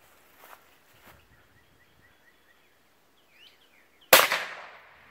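A single sharp gunshot fired outdoors in North Carolina, a loud close crack with a brief fading tail, following a few seconds of quiet with faint birdsong.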